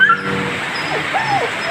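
A dog whimpers and yips in short, high cries at close range during a strong typhoon, with a steady wash of rain and water noise behind it.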